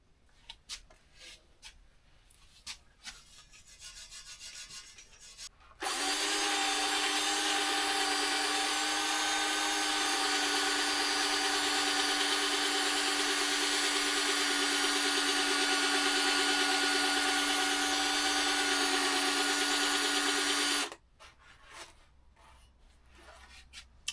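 Power tool stripping thin paint and rust from a 1940s vintage Velo de Ville bicycle, a loud steady whine running unbroken for about fifteen seconds, with quieter handling clatter before and after.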